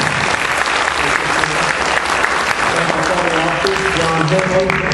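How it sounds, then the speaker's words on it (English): A seated audience at a 2012 sheriff's debate breaks into steady, sustained applause, dense clapping filling the room at an even level throughout. "would you also please give a round of applause for our very able and capable timekeeper, Mrs. Desiree Belson"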